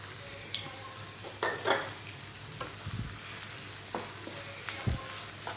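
Quiet, steady sizzle of two finely chopped large onions frying in a pan toward golden brown, with occasional soft scrapes and clinks of stirring.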